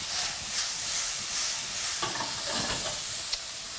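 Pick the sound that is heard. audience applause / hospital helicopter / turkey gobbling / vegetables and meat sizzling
vegetables and meat sizzling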